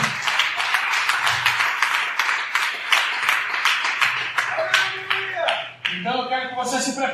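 Church congregation applauding and clapping in a steady dense patter, with voices heard over the clapping.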